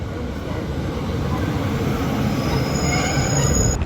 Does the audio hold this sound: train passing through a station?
yes